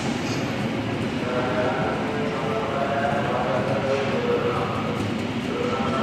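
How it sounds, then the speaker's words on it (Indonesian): Argo Parahyangan passenger train bound for Bandung at Manggarai station, a steady, loud rumble of rolling wagons with faint clickety-clack, continuous throughout with some background voices. "Kereta api Argo Parahyangan tujuan Bandung."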